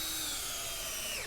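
Handheld power drill spinning up in a school classroom when the trigger is pulled, a steady high-pitched motor whine that runs continuously through the short moment with no voices.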